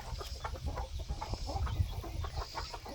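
A hen clucking with her baby chicks, steady close clucks and soft peeps in a quick uneven rhythm, with no talking.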